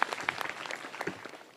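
An audience at a career counselling show claps for a student, a scattered, moderately loud round of applause with sharp individual claps that thins out over a second or two.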